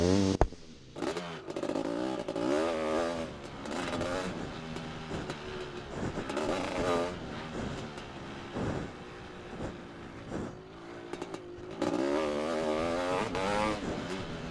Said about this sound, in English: this will be 5 laps on the CR500